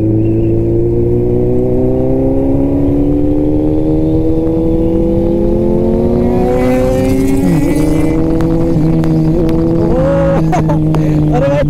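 A Kawasaki Z900 motorcycle revs and accelerates loudly up close, its engine note climbing steadily in pitch and then warbling through gear changes, with a rider's voice talking over it.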